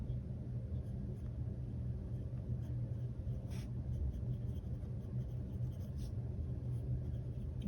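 A pen scratches across the paper of a Hobonichi Weeks planner, soft intermittent strokes of writing under a low background rumble, quiet and close.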